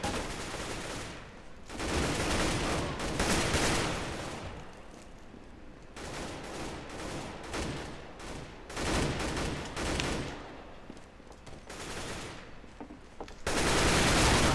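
Rapid bursts of AK rifle fire in a Counter-Strike: GO multiplayer match, loud and close, with several sustained volleys separated by short pauses.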